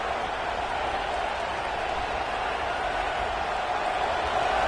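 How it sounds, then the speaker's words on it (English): A stadium crowd at an Iowa college football game against Miami (OH) roars in a dense, continuous wall of cheering that stays loud and steady throughout. "Listen to this crowd just shaking the girders of this place, trying to help their defense."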